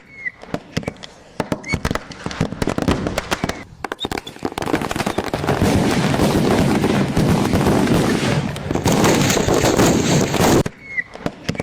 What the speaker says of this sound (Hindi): प्रदर्शनकारियों ने पुलिस पर छोड़े पटाखे।